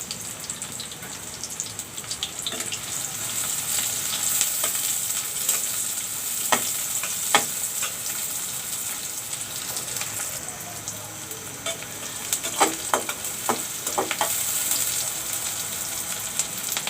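Chopped onions frying in a pan for a chicken curry cooked with jackfruit seeds, a steady close sizzle with scattered crackles and occasional sharper pops, no one talking.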